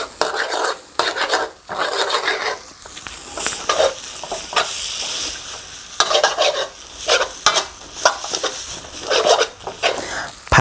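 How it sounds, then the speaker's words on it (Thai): Glass noodles with cha-om and egg are stir-fried in a pan, the spatula scraping and clattering in repeated loud bursts over a steady, bright sizzle, with no talking. "ผัดไปเรื่อยครับ"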